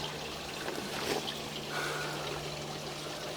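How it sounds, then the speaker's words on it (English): Water runs through a pipe in a steady, faint trickling flow with a low constant hum underneath and small splashy surges, no voices. "I'm going to go ahead and run some water through here."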